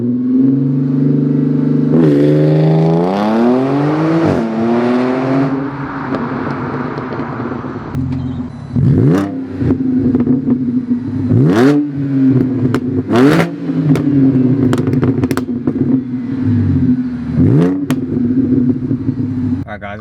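An Audi A4/S4 accelerates hard onto a highway, its engine climbing through rising revs with repeated gear-change dips and surges, loud and close from inside the car, with no talk.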